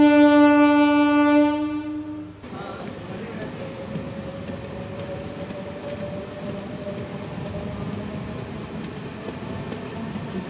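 A train near Rajahmundry railway station sounds a long sustained horn, then rumbles steadily and loudly past with a continuous rolling roar, two trains sharing a single track.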